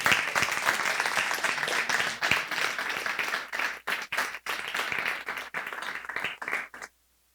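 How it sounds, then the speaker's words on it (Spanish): A church congregation claps in loud, sustained applause, dense at first and then breaking into choppy bursts before stopping abruptly into silence. "Denle un aplauso a Jesús."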